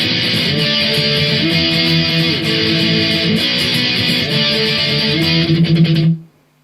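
Electric guitar strums the chorus chord shapes of a song in a bright, driving, continuous pattern, loud and close, ending with a few choppy strums before cutting to silence.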